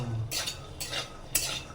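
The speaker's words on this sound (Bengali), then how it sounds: "বাদাম ভাজা হচ্ছে" Peanuts are stirred in a pan, three quick scraping sweeps of a spatula over a faint background, quiet and close.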